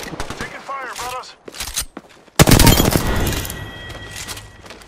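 Close, dense automatic gunfire bursts in the Apex Legends battle royale game, erupting loudly and continuing as a sustained fusillade after a short gap, with shouted voice calls and game sounds earlier on.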